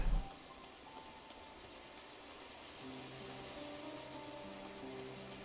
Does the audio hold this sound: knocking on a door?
no